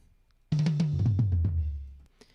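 A single muffled, low tom drum phrase rolls down in pitch over about a second and a half, dull and lacking sharp attack.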